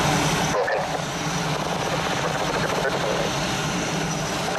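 Mirage jets roar through a duo flying display, a loud continuous engine rush far overhead that swells and fades slightly over several seconds.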